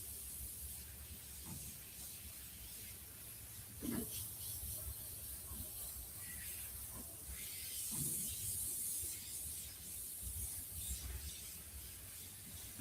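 Faint, steady hiss of an airbrush spraying paint while cleaning up overspray on a black hole space artwork, with a few soft short bursts of spray standing out over the constant airflow.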